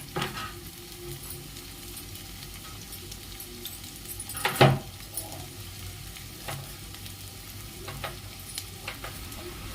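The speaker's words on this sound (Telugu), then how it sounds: "మళ్ళీ ఆయిల్ వేసుకొని కట్ చేసి పెట్టుకున్న ఉల్లిపాయలు పచ్చిమిరపకాయలు వేసి బాగా" Sliced onions and green chillies sizzle and fry in hot oil in a pan, a steady low crackle with a louder stirring scrape near the middle and faint clinks after.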